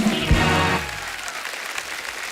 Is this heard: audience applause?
yes